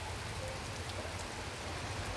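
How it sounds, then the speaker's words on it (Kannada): Heavy rain falls steadily, a soft, uniform wash of patter heard from a little distance, continuous and fairly quiet with no voices over it. "ಸರಿಯಾಗಿ ಹೊಡಿತೈತೆ ಮಳೆ ಮಾತ್ರ"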